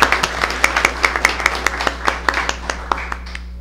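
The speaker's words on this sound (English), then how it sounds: "Let's give them a nice round of applause." An audience at a school board meeting claps in warm, even applause, dense at first and then thinning out over a few seconds in a roomy hall.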